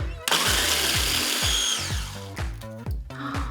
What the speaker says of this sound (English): Place the remaining cookies into the food processor and let's whisk these up too.